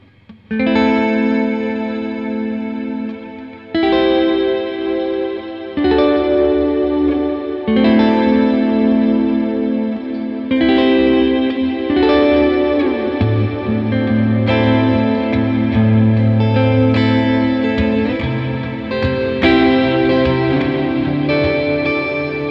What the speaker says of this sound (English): so this is pretty much hall reverb